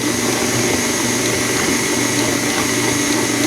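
A KitchenAid stand mixer churns a wet banana bread dough, giving a loud, steady motor whir that holds unchanged from start to finish with no pauses.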